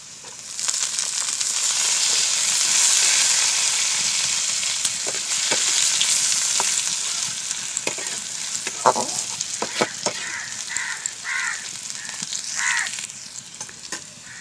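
Vegetables frying in a pan with chopped onion and ginger for daliya pulao, a loud close sizzle that swells early, then turns patchier with stirring scrapes and clatters toward the end.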